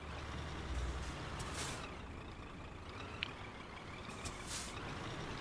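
A truck's air brake in Euro Truck Simulator 2 lets out soft hissing bursts of air over a low, quiet engine hum, with a faint click partway through.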